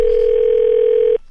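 A telephone line tone for a prank call on a radio morning show: one loud, steady, unbroken tone lasting about a second that stops abruptly, with no voices.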